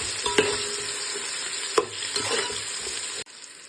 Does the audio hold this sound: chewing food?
no